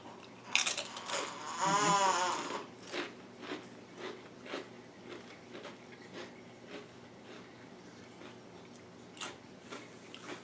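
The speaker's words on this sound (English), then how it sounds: "when you take a bite out of them, they just have like that really good crunching sound" Potato chips from a Subway meal crunch close up as they are bitten, with a burst of crisp crackling early on, followed by quieter, scattered chewing ticks and crunches.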